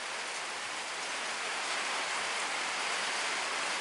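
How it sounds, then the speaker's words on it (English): Steady outdoor rainfall, a dense even hiss of drops that stays constant throughout, soft and without voices. "So needed this rain."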